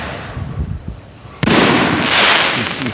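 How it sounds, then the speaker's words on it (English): Large 4-inch Cambodian-made firework shells burst overhead, faint pops giving way to a sudden loud blast and a long, dense crackling roar at close-to-mid distance. "Guys, these are 4-inch shells, and they're not messing around."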